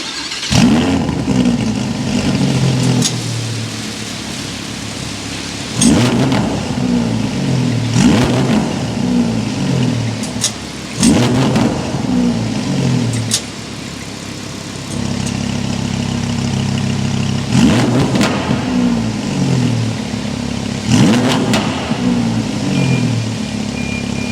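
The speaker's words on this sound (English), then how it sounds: "The exhaust note that you get out of the V10 R8 is insane" A 2022 Audi R8 Performance V10 engine revs hard in repeated bursts, its loud exhaust roaring up and falling back to a rumbling idle between blips.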